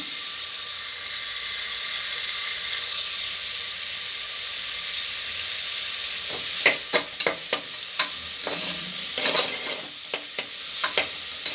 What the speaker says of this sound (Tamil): முதல்ல வெங்காயத்தை சேர்த்துக்கிடுவோம் வெங்காயம் நல்லா வதங்கட்டும்